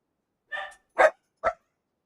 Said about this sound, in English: I don't know how loud the dogs were in the microphone, but they were very loud right behind my head